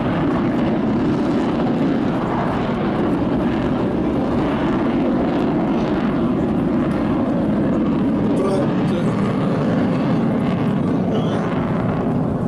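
An F-16 fighter jet's General Electric or Pratt & Whitney engine roars loud and unbroken at the 2017 Jesolo European Air Show, with someone talking faintly beneath the din.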